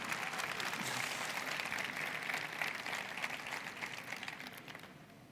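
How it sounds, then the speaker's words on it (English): An audience at the Mi A2 and Mi A2 Lite smartphone launch in Spain applauds the photographer, a dense round of clapping that swells early, then gradually fades out. "We'd like to applaud you."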